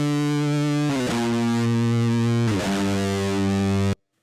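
Distorted electric guitar through a practice amp or multi-effects pedal, a harsh, fizzy digital tone sustaining loud chords that shift twice before cutting off abruptly near the end.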